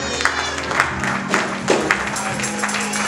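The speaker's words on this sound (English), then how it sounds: "You ought to clap your hands right there." A church congregation claps and cheers during a sermon, with loose, lively applause and scattered shouts over a sustained organ-like tone in the room.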